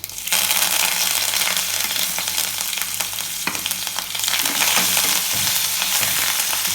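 Hing, jeera and curry leaves hit hot oil for a kadamba tempering, giving a loud, dense, continuous crackling sizzle close up, with a few sharp pops and light metallic clinks.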